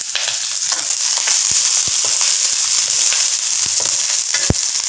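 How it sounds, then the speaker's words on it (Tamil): Garlic, green chillies, dried chillies and onion sautéing in a pan for a Tamil mint thuvaiyal, a steady loud sizzle with scattered crackles and occasional stirring clicks throughout. "பூண்டு, பச்சை மிளகா, காஞ்ச மிளகா, வெங்காயம் எல்லாத்தையும் போட்டு நல்லா கொஞ்சம் வைப்போம்."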